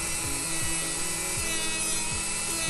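A square acrylic nail tip is filed with a nail file held flat and perpendicular, giving a steady, close rasping scrape with a regular back-and-forth stroke rhythm and no talking.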